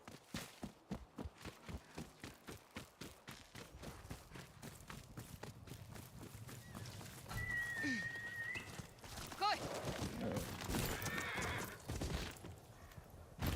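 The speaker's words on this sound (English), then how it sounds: "It felt so good riding with these horses for the first time." Horses galloping in the video game Ghost of Yotei, with quick rhythmic hoofbeats at first, then a denser rush of hooves and movement that grows louder toward the end.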